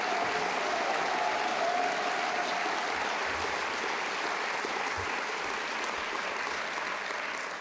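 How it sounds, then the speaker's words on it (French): A hall audience at a centenary congress applauds warmly for two performers, a continuous broad clapping from many hands lasting the whole stretch, with a faint sustained tone early on and no speech. "Firmin et Vincent, une bonne main d'applaudissements"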